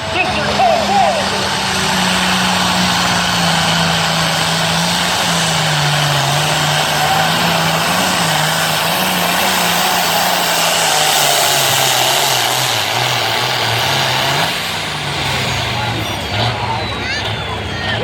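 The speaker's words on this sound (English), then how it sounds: "Turbocharged engine." A turbocharged light limited tractor roars under load at a tractor pull event in Libertytown, Maryland, a loud sustained engine drone with a whining turbo, accompanied by an announcer's voice and crowd noise.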